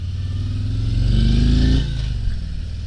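A 2022 Harley-Davidson Road Glide Limited with the 114 engine rumbles steadily while riding, its deep, loud engine drone swelling as it pulls and then easing off, with wind noise over it and no talk.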